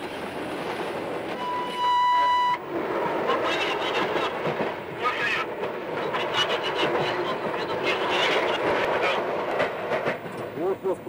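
The Trans-Siberian train runs along the rails with continuous rumbling and clickety-clack, a long horn tone early on, and a voice speaking over the rolling noise.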